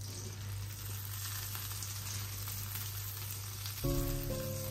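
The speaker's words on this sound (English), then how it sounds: "Melt some butter." Butter melts in a pan with a steady, soft frying sizzle, and a brief clatter near the end, likely the pan being moved or stirred.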